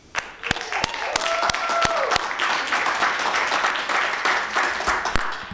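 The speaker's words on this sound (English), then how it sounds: "How about one last round of applause?" A crowd at a high school National Letter of Intent signing event applauds steadily, a dense wash of clapping that swells and continues, with a few sharper individual claps and faint voices mixed in.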